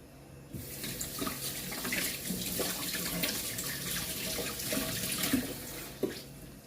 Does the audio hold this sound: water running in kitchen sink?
yes